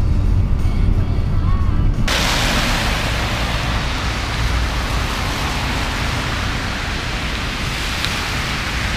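Heavy rain pours down outdoors in Japan, a dense steady broadband roar that suddenly swells to full strength after a quieter opening couple of seconds and then holds loud and unbroken to the end.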